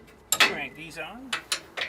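A ratchet cranks on trailer leaf-spring bolts, giving a few sharp, irregular metallic clicks and short bursts close by, with faint mechanical ringing between them.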